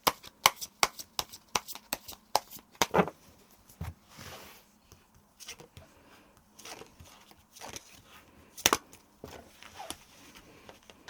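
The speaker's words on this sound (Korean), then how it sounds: "그 부분에 대해서 한번 카드를 뽑아보도록 할게요" Tarot cards shuffled and drawn by hand: a quick run of crisp riffling clicks for the first few seconds, then sparser soft slaps and slides as single cards are pulled. Close and fairly quiet, with no voices.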